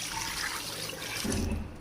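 Over two kilos of water pours steadily into a cooking pot for beef pulao, a continuous close splashing rush with no speech.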